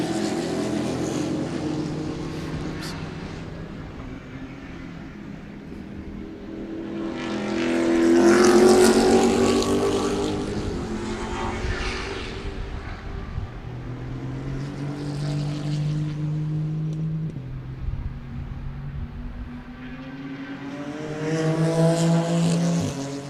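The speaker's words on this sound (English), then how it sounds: "Here's the two Corvettes" Corvette race cars racing at Sebring, engines swelling loudly as the cars pass close by, then fading, with more cars rising and falling in the distance through the stretch.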